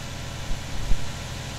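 A tractor engine in Farming Simulator 19 drones steadily at low pitch under broad noise, with a couple of brief heavier surges, no talk.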